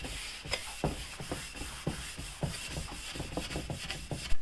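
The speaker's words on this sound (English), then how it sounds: "just rub over it with a Scotch pad" A hydrofoil front wing is rubbed with a Scotch pad, a soft close scrubbing in quick back-and-forth strokes with a steady rhythmic rasp.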